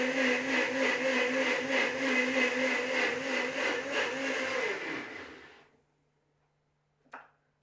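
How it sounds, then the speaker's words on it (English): A blender whirs steadily while mixing white sauce for a potato casserole, loud and even for about five seconds before winding down and cutting off, followed by near silence and one brief small knock. "I'm a bit worried about overloading the blender"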